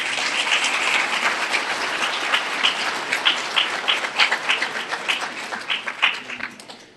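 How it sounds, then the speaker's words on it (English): Round of applause from a banquet audience at a chamber of commerce awards dinner, a sustained wash of many hands clapping with distinct sharp claps, tapering off toward the end. "Let's give them another round of applause."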